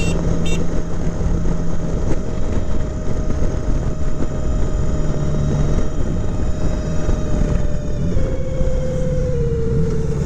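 A 1983 Honda Goldwing GL1200 motorcycle cruises at speed, with a steady engine drone and heavy wind rush close to the rider, and the engine note shifts near the end.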